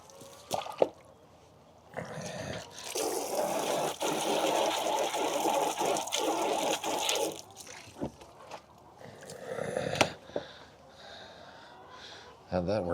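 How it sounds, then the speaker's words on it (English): Water running over a hose handle on a farm during morning chores, a steady splashing rush that starts and stops a few times, with brief breaks between the bursts. "Let me just actually kind of wash the hose handle here so my hands aren't quite so gross after handling"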